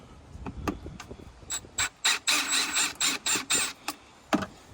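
A tool works a Phillips-screw hose clamp loose on the intake tube of a Honda Odyssey, giving a run of dry ratcheting clicks and scraping bursts, close up and with no talk.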